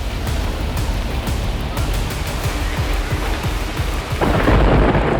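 Heavy rain pours steadily during an unseasonal storm in Karnataka while deep thunder rumbles repeatedly, with a louder surge of rain and wind toward the end.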